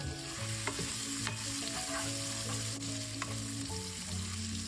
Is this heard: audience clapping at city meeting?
no